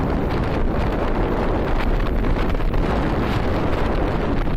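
Strong headwind buffets the microphone during a high-speed run on a 3000+W Eahora Tiger Max electric scooter, a loud, constant low roar with no voice heard.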